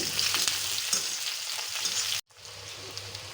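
Onions with bay leaf sizzle and hiss steadily in hot oil in a pan, with soft scraping of stirring running throughout at close range, cut by a brief silent gap before the frying resumes.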